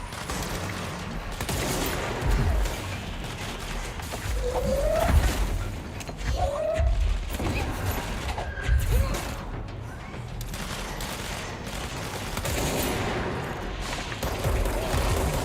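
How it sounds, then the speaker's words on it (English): Bursts of heavy, crackling weapon fire from the charge gun in the video game Control come in repeated volleys across the stretch. Whooshing energy tones and impacts are layered over dense combat noise. "we had the charge gun on"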